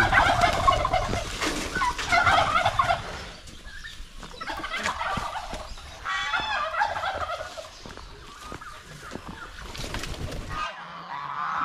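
Several turkeys gobble in bursts throughout, overlapping calls near and loud, with other fowl noises mixed in and brief quieter gaps.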